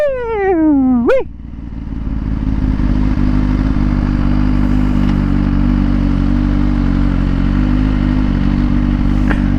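Suzuki Gixxer motorcycle revving hard, an engine note rising and falling in pitch before dropping into a loud, steady close drone that holds to the end.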